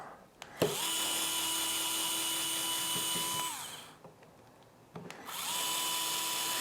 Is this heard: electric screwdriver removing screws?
yes